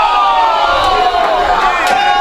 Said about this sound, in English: All these people making all this noise.